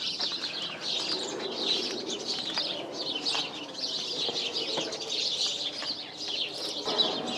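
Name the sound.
birds calling in a tree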